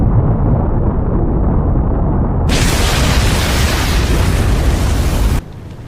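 Anime explosion of four orbs going off at once, a loud, continuous roaring blast that turns brighter and harsher partway through and then drops away abruptly.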